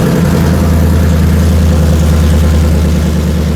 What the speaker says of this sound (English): But listen to this cold start real quick.